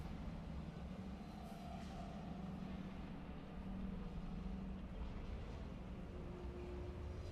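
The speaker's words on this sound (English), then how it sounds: "Now we get to go across the tram." Tram ride in the video game Mass Effect 3, a steady faint low rumble with soft mechanical hum throughout, no distinct events.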